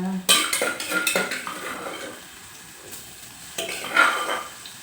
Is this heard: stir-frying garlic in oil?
yes